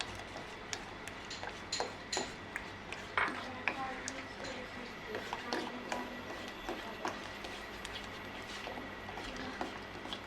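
A spoon stirring egg-white soup in a cooking pot over low heat, giving light irregular clinks and taps against the pot under a steady background hum.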